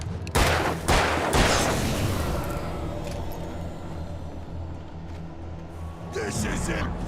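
Gunfire in the horror video game Alan Wake: a couple of loud, close shots near the start, then rumbling ambience and another burst near the end, with someone talking and exclaiming over it.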